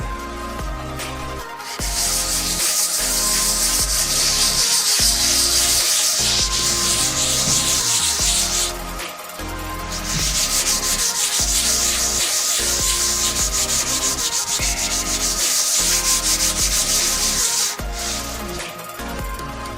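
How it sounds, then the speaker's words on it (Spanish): Long, rhythmic strokes of wet sanding a car hood by hand, a loud scratchy rubbing that pauses briefly and resumes, with no voices. "Arrancamos entonces a lijar con una lijita al agua."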